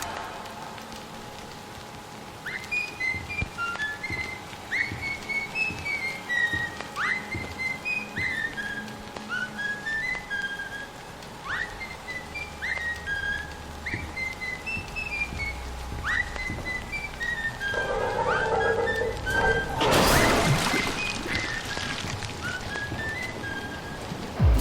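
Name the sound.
simple whistling tune from a video game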